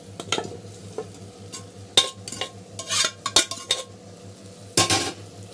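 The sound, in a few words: stirring boiled mutton into masala in a pan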